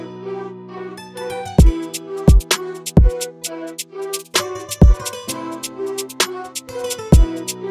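A drill-style drum pattern programmed in FL Studio: deep sliding 808 booms land at uneven intervals between crisp snares and fast ticking hi-hats, playing loud and alone over a sparse melodic backing.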